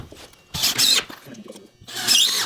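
A power drill drives screws down through floor sheathing into floor joists during floor framing, two loud whirring bursts with quieter handling noise between them.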